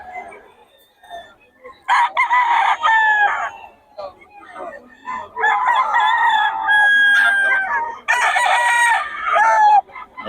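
A young stag rooster at a gamefowl farm in Bocaue crows loudly three times in close succession, each long call rising and holding, with faint background noise between crows.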